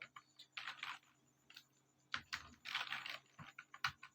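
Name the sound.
computer keyboard typing while writing code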